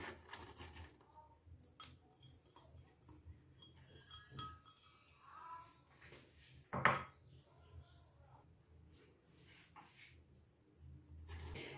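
A pressure cooker being handled in a kitchen while an onion is added, with scattered metallic clinks and knocks, one sharp clang midway, and faint speech in the background.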